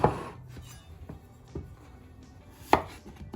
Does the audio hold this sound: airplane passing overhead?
no